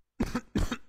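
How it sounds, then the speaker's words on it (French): Two short coughs from a man close by, separated by a brief pause, with the start of a third cut off at the end; no talking. "Une petite toux là."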